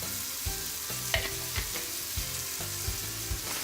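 Jambalaya ingredients with ground paprika, cumin and bay leaves cooking in a pot give a steady close sizzle, broken by periodic scraping stir strokes, with no talking.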